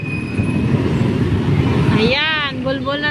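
Rumbling road traffic of tricycles and motorcycles in Taytay, Rizal, a continuous low engine drone nearby, with a brief rising tonal sound, like a horn or voice, near the end.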